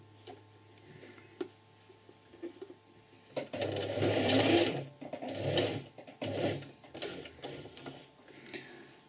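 A sewing machine stitches fabric along a traced rectangle, its needle running in a close, steady mechanical rattle that starts and stops in several bursts, with quiet pauses between runs.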